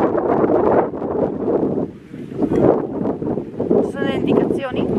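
Strong gusts buffet the microphone in a heavy, rumbling roar, with a voice speaking Italian underneath the wind, in Fuerteventura.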